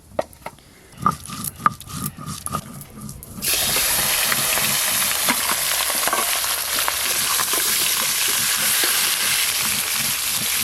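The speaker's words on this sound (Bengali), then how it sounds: "এবার ভালো করে লাল লাল করে ভেজে নেব," Bhetki fish coated in salt and turmeric hits hot oil partway through, preceded by a few clattering handling knocks. A loud, steady sizzle then sets in and continues without a break to the end.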